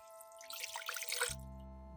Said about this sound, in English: Add 400 milliliters of water.